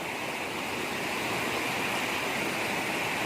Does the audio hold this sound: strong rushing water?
yes